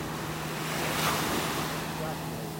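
Ocean surf on a beach in North Naples, Florida rolls in with a broad steady wash that swells briefly, mixed with wind buffeting the microphone.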